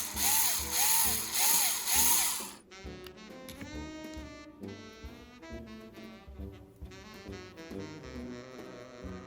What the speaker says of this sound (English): now we're gonna drill the actual hole